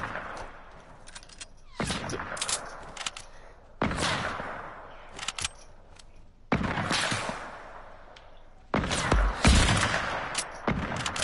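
Bursts of video game gunfire fire at a target in four loud volleys separated by quieter gaps, each volley a dense rattle of rapid shots.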